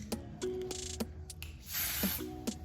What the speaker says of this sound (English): I'm just going to spray this